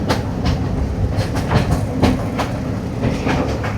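A train runs on rails through Sri Lankan tea estates while climbing into the hills, with steady rhythmic clickety-clack as the wheels pass rail joints over a continuous rumbling carriage drone.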